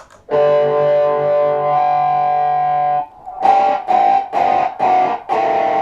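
Electric guitar played through a filter pedal with distortion, pedal pushed fully down: a sustained, buzzy distorted chord rings for about three seconds, then five short, choppy strummed bursts follow, loud and close with no voices.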